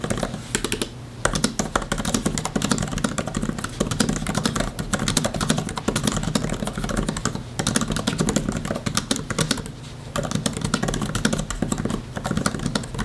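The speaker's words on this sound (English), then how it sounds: "here is some keyboard ASMR for you using the new Magic Keyboard." Soft, rapid key clicks patter continuously on an Apple Magic Keyboard for a 13-inch iPad Pro M4, close and crisp, with a few brief pauses between bursts of typing.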